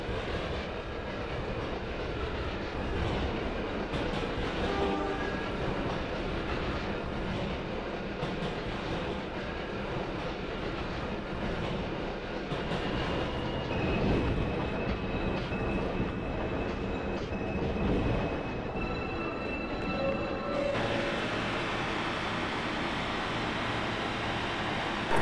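Simulated New York City subway local train running in the Trainz 12 game, a continuous loud rumble and rattle of wheels on track with occasional faint squeals and hums, no voices.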